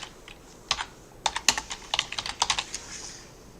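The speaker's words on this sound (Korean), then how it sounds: "키보드에 있는 ESC를 누르시면 됩니다." Keys pressed on a computer keyboard, a quiet run of separate clicks and taps in an irregular rhythm, close by with no talk.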